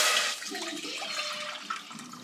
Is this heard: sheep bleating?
no